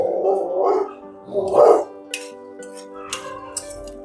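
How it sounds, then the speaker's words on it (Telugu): A dog barks a few times in the background, separate short barks mixed with clinks of dishes and someone talking. "మీకు కుక్కలు అరుపులు కానీ వినిపిస్తే ఇగ్నోర్ చేయండి"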